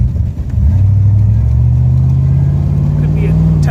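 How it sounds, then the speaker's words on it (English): A 1938 Chevrolet Master Deluxe pulls away from a standstill, its engine note rising from a low rumble into a steady, strong drone that climbs gradually. Loud and close, with a brief hesitation at the start and no talking. "Take off from a dead stop. The car's got a little bit of a hesitation at the onset."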